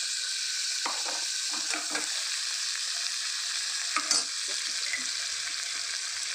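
Tomatoes sautéing with turmeric in a pan for mutton gravy give a steady close sizzle, broken by a few scraping stirs of a spoon against the pan.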